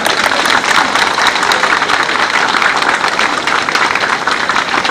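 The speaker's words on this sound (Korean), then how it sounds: "감사의 큰 박수를 보내시면 고맙겠습니다." At the opening ceremony of the 27th Icheon Haessare peach festival, a large outdoor audience gives loud, steady applause of thanks that continues evenly throughout.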